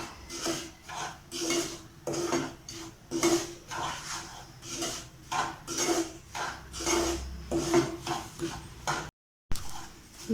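Milk powder being stirred into ghee in a pan: soft, repeated scraping and rasping strokes in an even rhythm, close and fairly quiet, with a brief gap near the end.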